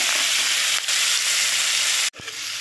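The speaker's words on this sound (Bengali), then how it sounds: "এবার আমি দিয়ে দেব চিংড়ি মাছগুলো, একটু ভেজে নেব, হালকা করে ভেজে নেব।" Prawns dropped into hot mustard oil fry lightly in a pan, giving a loud, continuous sizzle that cuts off abruptly near the end, then a softer hiss resumes.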